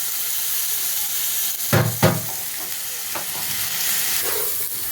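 Jackfruit and potato frying in hot oil in a pan, a steady close sizzle with a few louder clatters of stirring near the middle, no talk.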